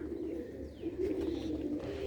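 Pigeons coo steadily in a loft, a low rolling burble repeating close by without pause, with faint chirps and rustle over a dull background hum.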